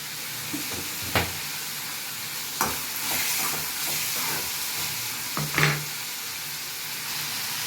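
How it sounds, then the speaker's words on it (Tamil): Mint chutney ingredients, including tomato, sauté in a pan with a continuous soft sizzle and hiss, marked by several sharp clanks of a spoon stirring against the metal. "அது கொஞ்சம் நேரம் வதங்கட்டோன்னு விடுறாங்க."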